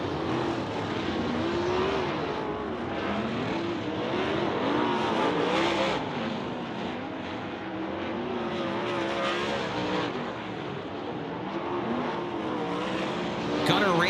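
Sprint cars running hot laps on a dirt oval at a Tri-City High Limit Racing event, engines roaring loud and continuous as the field circles, pitch rising and falling with the laps.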